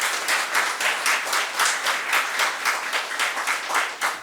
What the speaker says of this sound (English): Guys, give them a hand of applause.